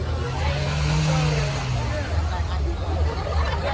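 A car engine revs loudly at a car meet, a low droning roar rising and holding, under crowd chatter and shouting.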